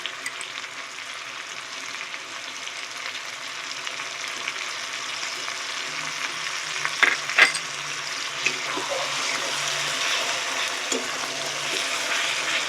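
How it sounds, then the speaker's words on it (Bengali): Ginger paste and tomato fry together in a pan for chicken curry, giving a steady close sizzle with occasional stirring scrapes and a couple of sharp utensil clinks midway. "দিয়ে ভালো করে কষিয়ে নেব যতক্ষণ না টমেটোটা একদম নরম হয়ে গলে যাচ্ছে"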